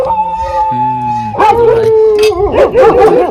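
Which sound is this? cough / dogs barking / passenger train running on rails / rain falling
dogs barking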